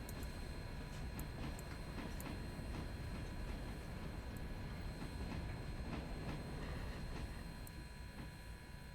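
A locomotive slowly turns around on a small track triangle under a 25 mph limit, giving a steady close rumble of rolling rail noise with faint scattered clicks and squeaks of wheels on track throughout.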